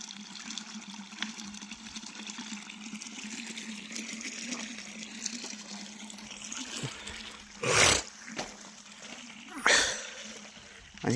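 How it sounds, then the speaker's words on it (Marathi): Water flows from an irrigation pipeline into a sugarcane field as a low, steady rush and gurgle, with a couple of louder gushing bursts near the end. "ज्यावेळेस पाईपलाईन भरण त्याच वेळेस पाणी जास्त येणार आहे शेतकरी मित्रांनो. आता हळूहळू वाढायला लागलं आहे."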